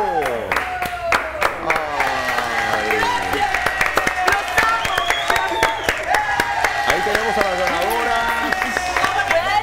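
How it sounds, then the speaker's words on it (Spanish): Audience applause for the winner at a televised Miss Revista Al Día crowning among the show's presenters, a steady burst of clapping and cheering heard beneath music with sustained tones and fanfare-like phrases. "Fuerte, fuerte el aplauso."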